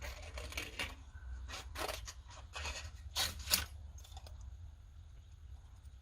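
Scissors snip through decorative card in a series of short, crisp cuts, several close together and then more spaced out, faint and close with no talking over them.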